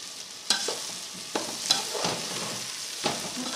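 Onions, celery, craisins and pine nuts browning in a pan for stuffing, a steady soft sizzle broken by several sharp scraping stirs, close and alone.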